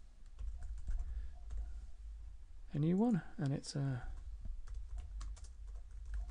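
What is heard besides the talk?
typing on a computer keyboard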